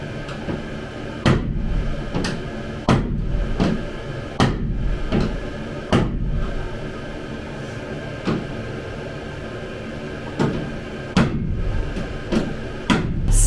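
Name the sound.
punch and hammer dimpling Sprinter van wall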